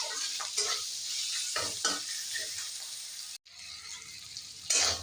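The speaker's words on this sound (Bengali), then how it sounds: "মশলাটা চিংড়ি মাছটার সাথে ভেজে নিয়েছি" Salted, turmeric-rubbed prawns fry with chilli-powder spice masala in a hot pan for a Bengali dish, a steady close sizzle broken by scraping stirs and one brief gap near the end.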